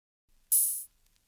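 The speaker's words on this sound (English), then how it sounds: "The next thing after that was a simple stab with an open hat." A single open hi-hat stab from a 2000s R&B beat, one bright hissing hit lasting about a third of a second that rings briefly and then cuts off, alone and clear.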